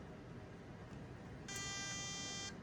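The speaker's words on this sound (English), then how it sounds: "you hear the MOSFET beep" A steady electronic beep from an airsoft AK74U's MOSFET, bright and tonal, sounds for about a second over low background hum, starting midway through.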